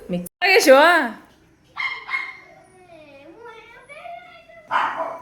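A dog yips and whimpers in short, high, wavering bursts between pauses, fairly close, with a brief human voice mixed in.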